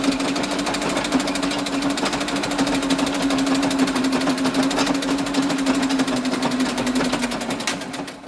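A sewing machine runs continuously on a tight stitch setting while joining patchwork squares for a skirt, with a fast, even mechanical chatter and a steady motor hum, close by and without talk.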